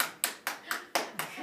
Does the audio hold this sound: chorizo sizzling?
no